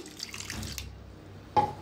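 Water pours into a bowl of flour batter being mixed for appe and dosa, a short, soft trickling splash that fades after under a second, followed by a brief louder splash near the end, heard close by.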